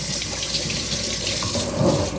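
Hot tap water runs steadily into a sink during a rinse, a close, continuous splashing rush with no speech.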